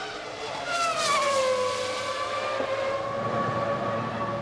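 Formula 1 cars racing at the 2001 Australian Grand Prix, a loud high-pitched engine wail sweeping down in pitch as a car passes close by, with a steady roar continuing behind it.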